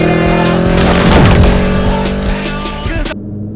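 A 2003 Ford SVT Cobra Terminator with 12,000 miles accelerating hard on a test drive, loud close engine roar with a brief tire squeal, sustained for a few seconds before cutting off.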